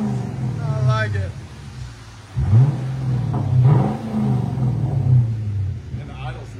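A car engine idles after an oil change with a low, steady rumble and a brief rev partway through, while people talk over it.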